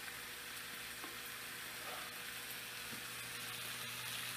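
Rice sizzles and fries steadily in a pan as soy sauce is worked through it, a soft, continuous hiss with faint scraping from stirring, heard alone.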